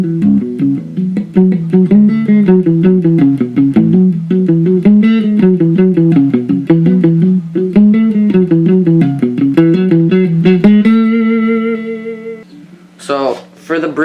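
Guitar plays the first part of the bridge of a song alone, with a steady run of close, loud strummed chords that rings out into a sustained chord near the end, followed by a brief scrape.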